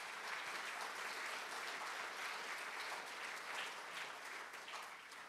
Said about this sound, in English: I'd like to give them a round of applause and thank them.